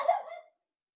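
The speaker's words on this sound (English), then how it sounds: "sorry about the barking dog" A dog indoors gives one short, moderately loud bark, followed by silence.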